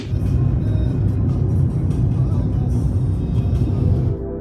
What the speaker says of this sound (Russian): Едем вдоль озера, дальше сворачиваем влево и едем в тоннель